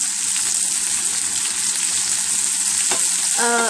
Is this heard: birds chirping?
no